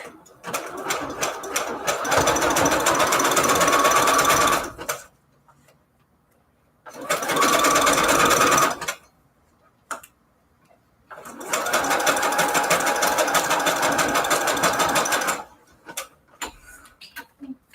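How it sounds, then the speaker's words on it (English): Sewing machine stitching gold trim with yellowish gold thread for Valentine's Day embellishments, running in three close bursts of fast rhythmic whirring separated by short quiet pauses. "I have like a yellowish gold thread in my sewing machine right now."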